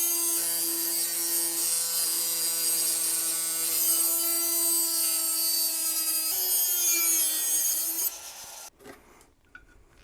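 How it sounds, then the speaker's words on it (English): A VEVOR 380W flex shaft rotary tool cuts a corner off a steel bar just under 1/8 inch thick, giving a sustained high whine that shifts pitch under load and then stops abruptly, followed by faint clatter. "So now I just want to see if I can cut a corner off of this bar."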